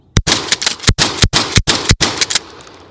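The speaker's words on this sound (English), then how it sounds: "just actually shoulder firing it and working it like an actual shotgun is better off." A Cimarron 1897 pump-action shotgun is shoulder-fired and worked in quick succession, loud sharp shots alternating with rattling clacks from the pump action, about seven blasts in under three seconds, close and with no talking.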